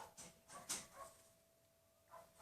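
A few faint, distant dog barks and yips in quick succession, then a pause and one more bark, quiet against a soft background.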